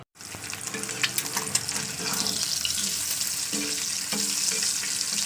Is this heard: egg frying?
yes